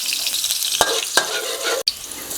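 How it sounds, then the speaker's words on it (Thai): Garlic stir-fries in a hot pan, sizzling loudly and continuously while a utensil scrapes through it in a few sharp strokes, with a brief cut near the end and no talking. "ผัดกระเทียมนะครับให้สุก หอมครับ"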